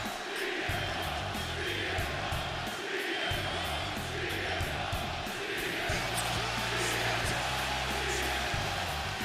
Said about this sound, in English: the Toronto crowd is on their feet for the best in the world, CM Punk.